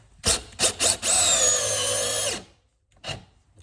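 A DeWalt Xtreme 12V cordless drill whirs in a few short bursts, then drives a construction screw into wood in one long steady run that slows and strains before cutting out, followed by a brief final burst.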